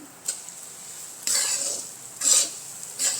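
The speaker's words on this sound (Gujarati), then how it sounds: "1 વાટકી ઘી છે તે ઉમેરી દઈશું અને તેમાં આપણે આ દાણો પાડેલો લોટ છે ને તે શેકી લેવાનો છે" Coarse gram flour roasting in ghee for mohanthal gives a soft crackly sizzle, broken by three or four scraping strokes of a spoon against the pan, close and quiet, with nobody speaking.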